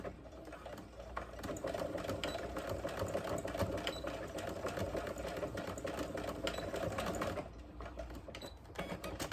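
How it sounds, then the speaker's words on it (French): A sewing machine runs in fast, continuous bursts while backstitching scrunchie elastic, a close, rapid mechanical chatter that stops briefly near the end and then resumes. "je fais des avances-reculs à la machine plusieurs fois"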